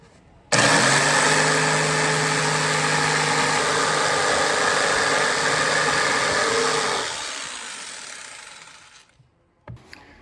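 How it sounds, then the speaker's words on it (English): A jigsaw cuts a hole in a wooden box: after a short quiet start the motor snaps on loud and steady for about six seconds, then winds down and fades, ending with a couple of faint knocks. "Jigsaw time."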